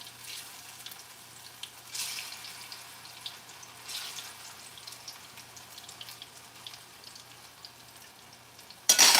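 A second batch of plantains fries in a pan, giving a soft, steady sizzle with faint crackles throughout and a louder clatter at the very end.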